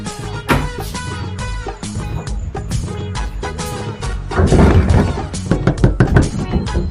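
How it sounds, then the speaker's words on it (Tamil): Loud knocking on a door sounds in a run of sharp, heavy raps, irregular and close, growing busier and rougher toward the end. "இவ்வளவு சத்தமா யாரு கதவை தட்டுறது?"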